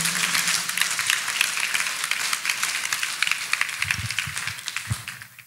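Church audience clapping for Jesus at a Shekinah Glory of Faith Ministry service, a steady dense patter of hands held at moderate level for several seconds, with a few low thumps near the end.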